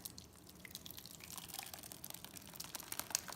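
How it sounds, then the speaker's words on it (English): Thick chili sauce pours and drips over meat, with soft wet splatters and a brief sharper drip near the end. "You're just gonna pour it all over your meat"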